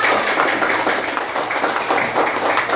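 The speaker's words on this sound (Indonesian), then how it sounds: "tepuk tangan buat kita semua" A class of fifth-grade pupils claps hands together in a classroom, a dense, steady burst of many overlapping claps that fills the whole span loudly, with no talking over it.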